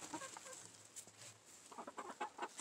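Chickens cluck softly inside a coop during egg collection, a few short murmuring calls at first and then a quicker run of clucks near the end, quiet against the room tone.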